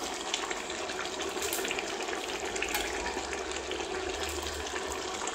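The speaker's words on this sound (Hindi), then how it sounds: "पानी ऐड करेंगे।" Steady rushing water pours continuously into a cooking pot of biryani, a broad hiss with a low churning rumble underneath, close and constant throughout.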